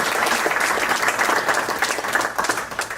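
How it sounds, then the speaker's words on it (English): Sustained audience applause at a live talk, a dense, steady wash of many hands clapping at full strength for the whole stretch, with no voices standing out. "So give a round of applause for Jethro."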